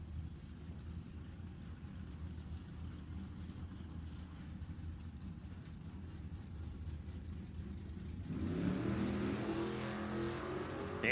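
Nostalgia gasser drag cars, a Vega and a Mustang, rumble steadily at a distance at an NHRA Heritage Series event, and the engine roar swells louder and rougher as they launch near the end.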